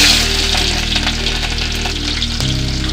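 Mustard seeds, cumin and chopped shallots frying in hot oil for tempering, a loud, steady crackling sizzle throughout, close up with no talk.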